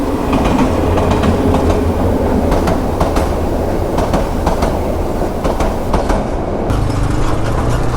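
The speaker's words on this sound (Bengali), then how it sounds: "অনেক দিন পরে ট্রেন দেখলাম।" A train rolling past close by in Bangladesh, a loud continuous rumble with rhythmic clickety-clack of wheels over rail joints lasting the whole stretch.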